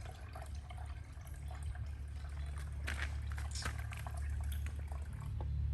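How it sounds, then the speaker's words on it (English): Water poured into a bucket of CP1000 concrete microtopping powder, a soft, continuous trickle and splash over a steady low rumble, growing slightly fuller as it fills. "now I'm simply going to add water up to this 4"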